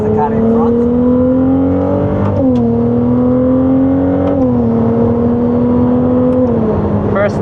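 Ferrari race car engine at Clark Speedway on a stock exhaust, a loud, sustained drone heard close from inside, its pitch rising and dropping through gear changes.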